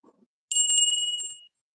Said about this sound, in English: 3 rings of the bell for Gilbert and Ray